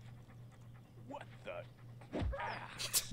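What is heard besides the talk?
dog barking and panting in the video game Postal 2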